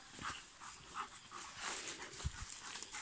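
A dog panting outdoors near wild horses in a wood, quick soft breathy pants with a few small whimpery sounds, fairly faint and close, with no talk over it.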